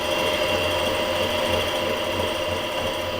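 A lathe cuts a two-start thread at 2 tpi with a steady, continuous mechanical whir and faint rhythmic chatter, close and uninterrupted, with no talking.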